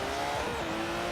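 A Porsche race car in the video game Forza Horizon 3 drones with a steady high engine note at constant loudness, a sustained tonal whine over a low rumble, with no talk.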